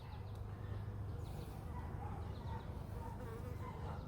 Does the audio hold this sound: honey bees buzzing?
yes